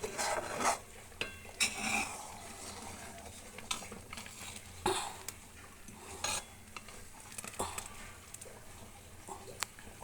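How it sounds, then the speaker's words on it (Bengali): A spoon stirs payesh, rice pudding with patali jaggery, in a pot. Soft, faint scraping and sloshing comes in irregular strokes, with small clinks against the pot. "এবার দিয়ে এটা এবার নাড়াচাড়া করব।"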